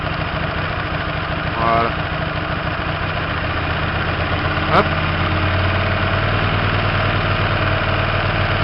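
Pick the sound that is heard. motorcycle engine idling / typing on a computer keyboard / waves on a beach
motorcycle engine idling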